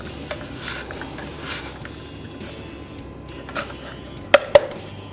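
Food rubbed across a kitchen grater gadget in soft scraping strokes, followed near the end by two sharp clacks of the tool against a hard surface, close with no speech.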